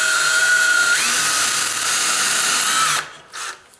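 A power drill with a tiny bit bores into a wooden door frame, a loud steady high whine that shifts pitch slightly partway through, then cuts off, followed by a short softer rev, close up with no talking.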